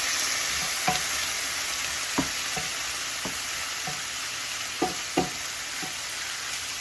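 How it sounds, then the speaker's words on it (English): Steak pieces sizzle in melted butter in a pan for a home hibachi meal, with a steady hiss and a few sharp utensil clicks and scrapes scattered throughout. "now that my butter has melted, I'm going to start going in with my steak pieces"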